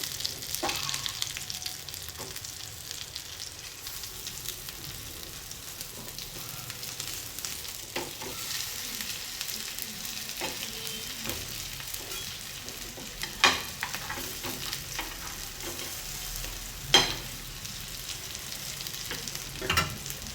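A sandwich flipped and toasted in a pan makes a soft, steady sizzle with occasional light scrapes and clicks as it is turned, quiet and close throughout.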